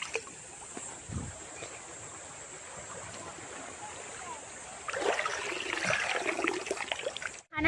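Hands being washed in a river, a soft steady trickle and flowing water with louder splashing and sloshing toward the end, fairly close, with no talk.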